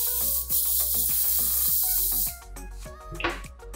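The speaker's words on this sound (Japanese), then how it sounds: "スプレーです" Hair spray hisses in a continuous burst of about two seconds onto styled hair at a hair salon, then cuts off, with soft music playing underneath throughout.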